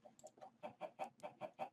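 Chickens in a Minecraft farm cluck in a quick series of about nine short, close clucks in an uneven rhythm, fairly quiet, with no speech.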